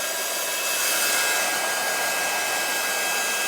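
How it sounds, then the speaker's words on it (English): A handheld heat tool for heat embossing on a card-making project warms up with a steady, loud, even blowing whir that holds constant throughout, with no talking. "Now, I'm using a heat tool and I'm just going to let it heat up first"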